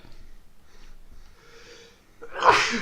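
A single loud sneeze bursts out near the end after a few seconds of quiet breathing and low room noise.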